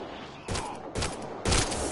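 Three loud, broadband gunshot bursts from a Mass Effect Andromeda firefight, spaced about half a second apart and each followed by a short ringing tail, with no voices over them.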